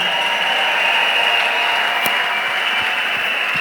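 A church congregation applauds the Lord in a steady, dense wash of clapping that stays loud and continuous throughout, with no voices breaking through.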